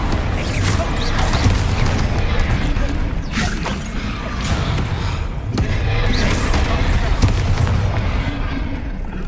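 Repeated spell blasts in the Hogwarts Legacy video game, booming impacts landing a few seconds apart over a dense, constant din of combat effects and music, loud throughout.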